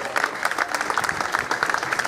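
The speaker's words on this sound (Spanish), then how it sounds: "Un aplauso también para él, que está por ahí detrás." Audience applause at an urban festival: a crowd clapping continuously in quick, dense, close-sounding bursts, with no talking heard.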